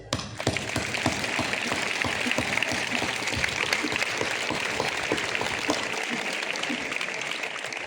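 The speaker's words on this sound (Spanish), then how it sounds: "Vaya por ello este emotivo aplauso" A crowd applauds in tribute during a town festival proclamation for the feast of Our Lady of Consuelo in Torremenga, dense continuous clapping that stays loud and steady throughout.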